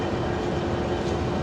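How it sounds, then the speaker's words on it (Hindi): Musa Pak passenger train led by a GU20 American diesel locomotive, departing at night from Lahore: a steady, loud rumble of rolling stock with no voices. "Musa Pak is ready for departure. 4554 GU20 American locomotive is eight lead."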